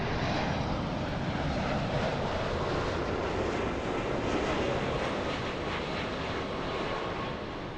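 A Boeing 767 airliner passing, a continuous broad engine roar holding steady and loud throughout, with no voices.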